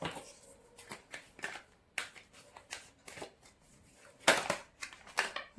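Tarot cards are shuffled and drawn by hand, giving quick, crisp riffling and slapping bursts in an irregular rhythm, close and fairly quiet, with brief pauses between flurries.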